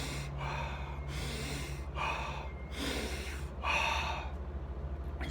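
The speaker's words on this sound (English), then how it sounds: "Wim Hof Method is essentially, it's a breathing method where he hyperventilates." Forced hyperventilation in the Wim Hof Method: four deep, strong breaths in quick succession, each a loud rushing gasp close to the mic, with a steady low hum underneath.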